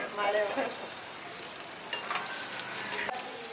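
Ingredients for hurali jinka, a horse gram dish, frying in hot oil, with a steady crackling sizzle broken by brief stirring scrapes.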